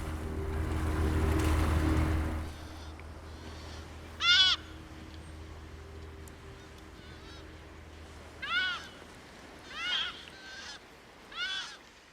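A few harsh, guttural croaking calls of an Audouin's gull sound in separate bursts, fairly distant, after a brief rumbling noise at the start.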